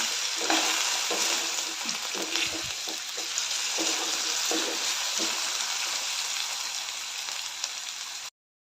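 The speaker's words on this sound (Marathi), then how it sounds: "बटाट्याचे काप चांगले लालसर होईपर्यंत फ्राय करून घेऊया" Potato slices fry in hot oil for a batata bhaji with a steady, loud sizzle and crackle, broken by a few soft stirring scrapes, until the sound cuts off abruptly near the end.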